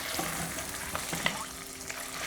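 Beef fries in a pan for a stew, its fat rendering in a continuous low crackling sizzle with occasional small pops, close and steady throughout.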